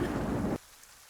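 Loud rain-and-thunder ambience plays as a sound effect: a dense, booming wash for about half a second that cuts off abruptly into near silence; no talk.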